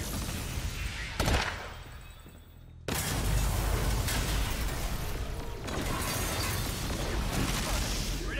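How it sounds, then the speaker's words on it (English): An explosion in the video game Agents of Mayhem: a sudden loud, broad burst of noise that stays dense and rumbling for several seconds, with clattering and crackling debris and a sharp hit at the start. "Oh shit, something's exploding."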